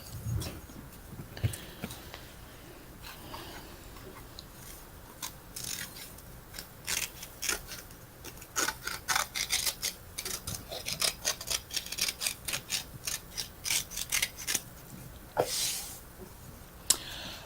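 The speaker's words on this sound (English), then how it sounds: "I'm just going to take and trim my fabric." Scissors trim fabric in a long run of close, crisp snips, sparse at first then quick and rhythmic, with no talking.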